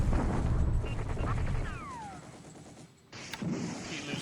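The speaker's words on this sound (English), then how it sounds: "Another bombardment here." Bombardment gunfire from a WWII strategy video game set in the Pacific, 1942, a dense rumbling barrage with whistling shells, a brief lull, then more blasts.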